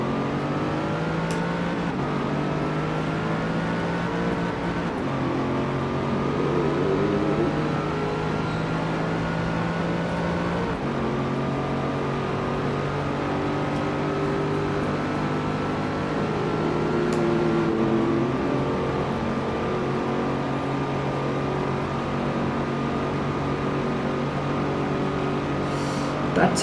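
Chevrolet Corvette ZR1 engine in the Forza racing game, a loud sustained V8 roar that holds steady through the clip, rising and dropping with gear changes and revs, with no talk over it.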